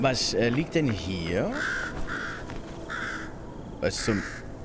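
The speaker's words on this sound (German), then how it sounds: "Alter, ich dachte gerade, ein Rabe greift mich an." A raven caws in the video game Lies of P, several harsh, loud calls in quick succession near the start, followed by someone speaking over quieter game ambience with another brief call near the end.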